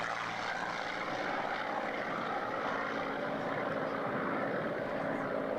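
A propeller aircraft flies low over a runway, its engine a broad, steady droning roar that holds close and loud throughout, with no voices.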